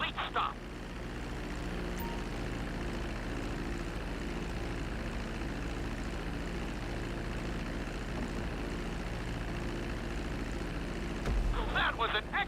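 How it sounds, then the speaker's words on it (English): A propeller airplane taxis on a runway in Grand Theft Auto V, its engine droning steadily and close with a constant low hum, broad roar and a few faint clicks. "Now let's get the plane off the runway. Taxi over to the marked area and come to a complete stop."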